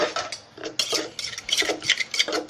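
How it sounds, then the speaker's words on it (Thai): Small tomatoes are pounded in a mortar to release their juice, a quick series of close, irregular knocks and wet clacks of pestle against the bowl, with no talking. "ตำให้น้ำมะเขือเทศออกมา"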